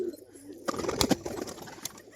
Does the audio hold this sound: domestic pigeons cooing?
yes